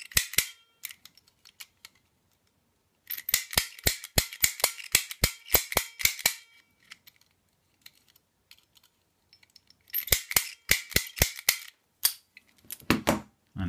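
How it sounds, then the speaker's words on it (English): An EAGLE pick gun snapping against a lock, in rapid bursts of sharp metallic clicks separated by short pauses, close and loud with no talking. "It's an own technique to use a pick gun."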